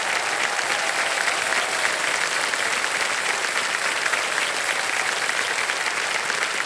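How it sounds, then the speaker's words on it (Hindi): A quiz-show studio audience on KBC applauds a contestant after a winning answer, a sustained, even wash of many hands clapping at steady volume with no speech over it. "ताली बजती रहे, ताली बजती रहे इनके लिए"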